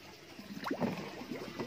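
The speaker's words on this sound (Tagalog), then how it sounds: "So, ilulubog natin ito. Ito, ilubog natin." A submersible water pump is lowered into a bucket of water, giving a short run of soft gurgling and sloshing splashes that peak briefly mid-way, close and fairly quiet.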